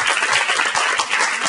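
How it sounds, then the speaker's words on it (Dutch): Loud, close applause in a sports television studio for a football club captain, many hands clapping in a dense, even stream without any speech. "Ik geef hem een groot applaus."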